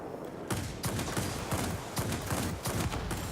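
Cannons on a J7W1 aircraft in the World of Warplanes video game fire in rapid sustained bursts, a loud dense rattle with brief breaks between volleys.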